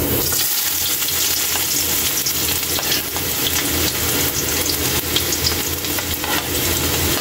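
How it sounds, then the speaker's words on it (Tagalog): Ginger sautéing in a pan as the start of a pork dish, a loud continuous sizzle with stirring scrapes throughout, no voices. "Unahin natin Kaylee yung luya sa paggigisa para kapit na kapit yung ano natin"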